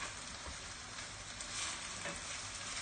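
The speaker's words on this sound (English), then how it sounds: "I'm just stirring that around for just a minute or two, just to make sure I separate it all up a little" Pieces of chicken with yellow pepper frying in a pan for a Spanish tapas dish, a constant hissing sizzle with quiet stirring scrapes throughout.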